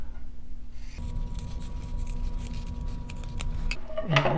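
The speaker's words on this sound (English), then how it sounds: "now again we're going to cut down that first line that we drew" Scissors cutting quilt fabric along a drawn line, a steady run of soft snipping and crisp rustle at close range with a faint hum underneath, no talking.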